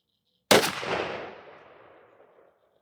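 A single 12 gauge shotgun blast from a Remington 11-87 firing a Winchester Supreme high-velocity 3-inch #4 lead shell, one sharp loud report that rings out and decays over about two seconds outdoors.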